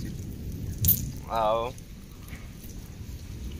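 Rain falls at the Jagannath temple, a steady, moderate patter of drops on surfaces throughout, while a voice speaks briefly over it.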